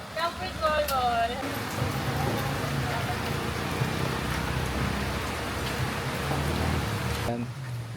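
Steady rain falls at a campsite, a dense, even hiss that continues throughout, with a brief whistle-like sound at the start.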